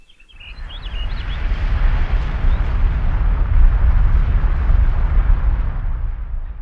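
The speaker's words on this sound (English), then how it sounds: "A volcanic blast sending a cubic kilometer of matter 27 kilometers into the sky" Mount St. Helens erupting in 1980, a sustained deep volcanic roar that rises within the first second and holds loud and rumbling, with no speech.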